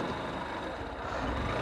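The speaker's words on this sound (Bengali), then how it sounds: "এখন বাইকটা স্টার্ট দিচ্ছি" A Honda SP 160 ABS motorcycle engine idling just after being started, a steady low rumble close by with no clear crank or catch heard.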